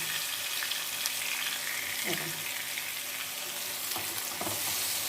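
Drumstick milk curry bubbling and sizzling in an open pot, a dense steady hiss close by with a few soft scrapes of a spoon stirring the bottom.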